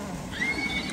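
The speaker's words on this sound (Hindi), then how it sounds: "दोस्तों घोड़ों को देखें, घोड़े काम खराब कर रहे हैं" A horse gives a short, close whinny with a rising, wavering tone over a steady background noise, lasting about a second.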